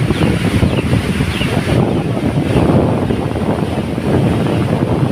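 Strong wind roars steadily into the microphone, a dense continuous rumble with gusts, likely mixed with heavy rain; no voices.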